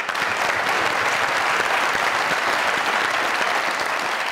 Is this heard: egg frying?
no